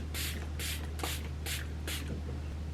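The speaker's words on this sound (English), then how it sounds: "I love how precise the nozzle is on this, so the spray is super fine." Fenty setting spray misted from a fine nozzle, five short bursts about half a second apart against a steady low hum, fairly close.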